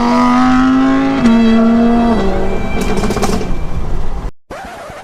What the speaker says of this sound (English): Whoa, this car is fast.